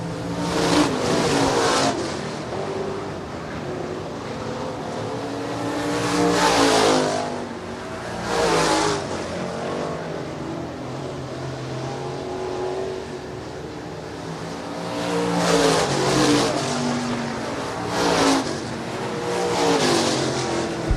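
Stock cars race around the Shelby County Speedway oval, engines roaring loud and steady with repeated surges as packs pass close by, several sharp swells near the start, middle and end, no voices over the din.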